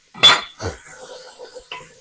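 A metal utensil clinks and scrapes against a pan as chopped onion is stirred into rendered bacon fat on medium-high heat, a sharp clatter followed by a few softer scrapes, close and alone.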